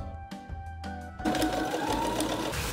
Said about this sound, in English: I now just overlocked the raw edges of those back seams and of the front seam as well